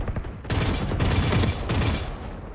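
Rapid, dense gunfire bursts from the video game Valorant during a Paper Rex versus FPX grand final, loud and continuous over a low rumble.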